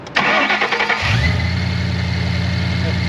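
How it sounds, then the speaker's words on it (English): A supercharged 5.0L V8 in a 2013 Ford Mustang Saleen S302 cranks briefly with a starter whir, catches at once and settles into a deep, steady rumbling idle, close and loud. "That great 5-liter fires right off, no funny noises."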